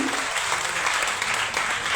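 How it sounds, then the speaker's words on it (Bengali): An audience claps loudly and steadily for an executive committee member named at an organization's announcement ceremony, a continuous dense patter with no talk over it. "তার জন্য একটি জোরে করতালি চাই আমি"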